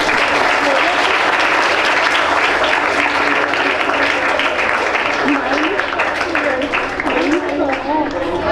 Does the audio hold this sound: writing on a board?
no